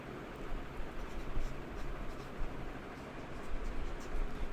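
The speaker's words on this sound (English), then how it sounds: "Let me write that down real quick." Pen writing down a price on paper, faint continuous scratching strokes close by for several seconds, with low background hiss and no talking.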